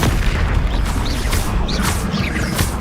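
A Confringo spell blast in Hogwarts Legacy lands as a loud, heavy booming explosion with crashing rumble and brief whooshing bursts, filling the short stretch without pause.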